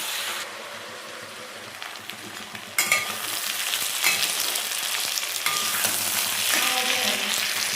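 Potato pieces fry with spices in a pan for an aloo dim bhuna egg curry. The sizzle starts soft, then jumps much louder and stays a dense close crackle with scraping stirs.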